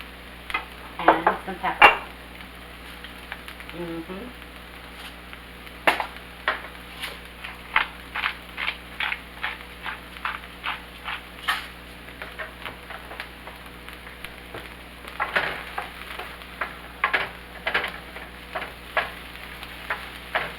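Chicken cooks in a pan for enchilada pasta, a soft continuous sizzle beneath a string of sharp clicks and scrapes from stirring and utensils, while a voice speaks briefly over it.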